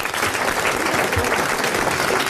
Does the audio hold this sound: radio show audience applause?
yes